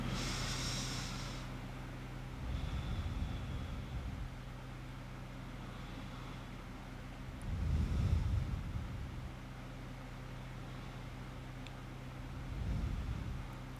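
Slow, deep breaths during a yoga session, three long airy swells spaced several seconds apart over a steady low background hum, close to the microphone, with no talking.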